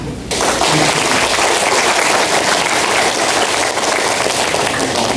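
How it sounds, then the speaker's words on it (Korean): Loud, dense applause from an audience at a Busan talk concert, starting abruptly and holding steady as a close, sustained roar of clapping with no speech over it. "여러분들이 박수 치는데도 좀 뜸을 들이시네요"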